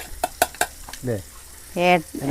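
Fish frying in coconut oil crackles in a pan, with a few sharp clatters of stirring and brief vocal sounds nearby.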